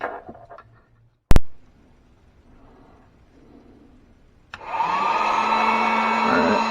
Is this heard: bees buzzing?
no